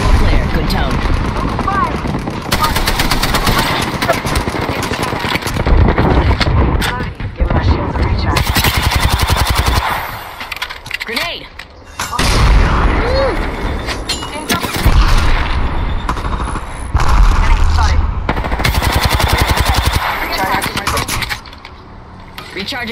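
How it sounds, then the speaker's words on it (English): Gunfire in the video game Apex Legends: dense, loud bursts of automatic weapon fire and booming shots fill most of the stretch, with brief lulls, while game voices talk over the action. "Alright, fire."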